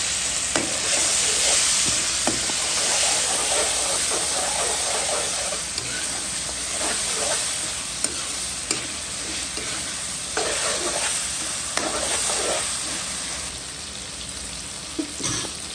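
Prawns fry in a pan with onion, chili, tomato, corn, ginger and garlic for a Bengali mixed-vegetable curry, sizzling loudly and steadily up close while a utensil scrapes and stirs at intervals.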